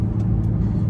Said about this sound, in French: la sonorité du V8 Atmo, qui se fait de plus en plus rare, c'est suffisant